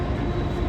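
A train emerges from a spiral railway tunnel near Emerald Lake in Yoho National Park, British Columbia, giving a steady, loud broadband rumble with no pauses or voices.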